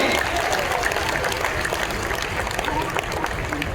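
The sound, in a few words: loud audience applause welcoming the chief minister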